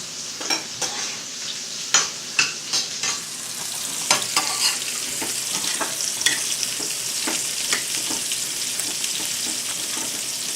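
Steamed sweet potatoes and squash sizzle and fry in a pan on a burner, a steady hiss broken by clicks and scrapes of stirring, close and fairly loud.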